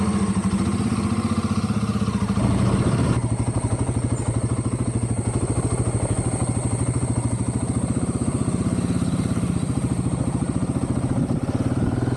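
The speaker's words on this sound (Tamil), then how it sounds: "அதனால் பிள்ளைங்களையும் கூட்டிகிட்டு பைக்கில் நான் போக போகிறேன்" Motorcycle engine idling then running with a steady low chugging throb and clatter, close and loud, on a rural road past rubber plantations, carrying a rider with children.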